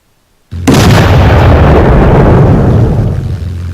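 A sudden loud Roblox explosion sound effect bursts in after brief silence, then a sustained rumbling roar that slowly fades.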